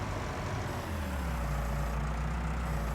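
A feed mixer wagon churning away in Farming Simulator 19, a steady loud low mechanical rumble and drone with no talk, continuous throughout.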